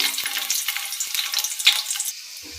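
Chopped garlic drops into hot oil in a kadai and fries with a steady, bright hiss, a close continuous crackle that runs the whole time and thins out near the end, with no voices.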